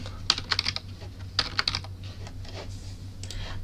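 Keys clatter in quick, uneven bursts as someone types code on a computer keyboard, a few clustered runs of close clicks separated by short pauses over a steady low hum.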